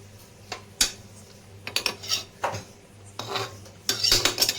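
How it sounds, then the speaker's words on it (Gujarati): Spiced tempered rice being stirred in a pot, giving a few separate scraping and clinking hits of a utensil against the metal, spaced irregularly, close by and moderately loud with no talk. "અને હવે આપણે એને હલાઈ નાખીએ."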